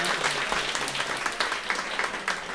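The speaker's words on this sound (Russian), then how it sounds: "Ну все, ребята, аплодисменты ему" Audience applause for a performer at a live music show, a steady dense patter of many hands clapping throughout, fairly loud and continuous with no talk over it.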